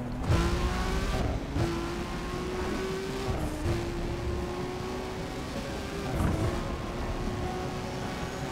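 A car in Need for Speed World accelerates at full throttle on a track, its engine roaring steadily and climbing in pitch, loud and close, with brief shifts and no talking.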